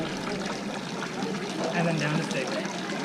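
Water pours from a ladle at the dragon-mouth fountain of a Japanese shrine, a soft continuous trickle and splash under steady nearby talking.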